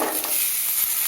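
Small onions hiss and crackle steadily in hot oil in a pan for a pirandai chutney, a close, continuous sizzle with faint stirring.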